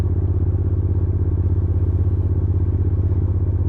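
Triumph Thruxton RS 1200 café racer on the road, a close, loud, steady engine thrum with rapid regular pulsing and wind rush, no voices.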